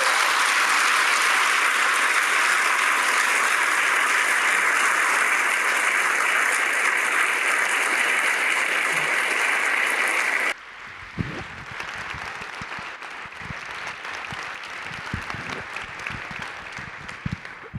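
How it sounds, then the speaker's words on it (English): An auditorium crowd applauds steadily as Doris Kearns Goodwin and Bob Costa are welcomed, a dense, even wash of clapping that cuts off abruptly, leaving scattered claps and room noise. "Let's give her a round of applause"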